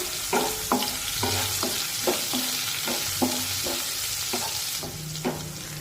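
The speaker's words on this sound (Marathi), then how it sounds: "आता या मिरच्या छानपैकी परतून घेऊया" Green chillies frying in a pan for a fasting-day potato dish, with a constant loud sizzle and a regular series of scraping stirring strokes, roughly two per second.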